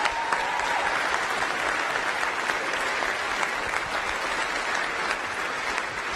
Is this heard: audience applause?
yes